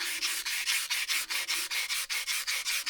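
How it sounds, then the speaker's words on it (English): Rhythmic back-and-forth rubbing of wet 220-grit sandpaper on a dragon boat paddle shaft, about five strokes per second, close and steady, with no talking. "sanding away."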